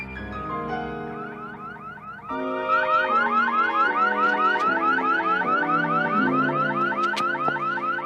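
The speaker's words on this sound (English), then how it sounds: "I was checking your car out here, and the alarm went off" Car alarm blaring from a parked car in a crime drama scene, a loud, steady cycling electronic whoop that jumps in intensity partway through and keeps repeating without speech.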